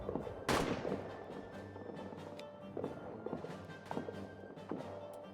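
Artillery and gunfire in the trench warfare game All Quiet in the Trenches, a sharp loud blast followed by scattered fainter shots and impacts of varying distance, with footsteps moving between them.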